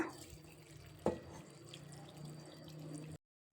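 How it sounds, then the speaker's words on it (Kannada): Water poured into a pressure cooker holding field beans and dill leaves, a faint, steady trickle with a single brief splash near the start, then abrupt silence. "ಅವರೆಕಾಯಿ ಸಬ್ಬಕ್ಕಿ ಸೊಪ್ಪು ಬೇಯುವಷ್ಟು ನೀರು ಹಾಕೋಣ."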